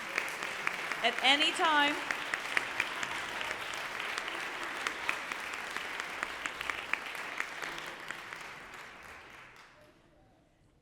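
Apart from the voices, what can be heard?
applause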